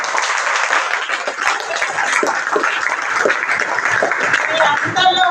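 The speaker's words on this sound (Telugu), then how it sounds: "ముందు క్లాప్స్ కొట్టండి." A classroom of students claps to appreciate four classmates who stepped forward as class leader candidates, a loud, continuous patter of applause with some voices mixed in.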